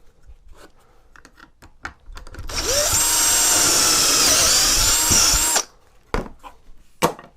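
A power drill bores holes in the wood of a homemade coffee table, one loud continuous whirring run of about three seconds, set between quieter handling knocks and clicks.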